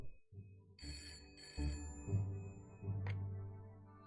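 A telephone in the point-and-click game Broken Sword rings with a repeated electronic trill, moderately loud over a quiet background.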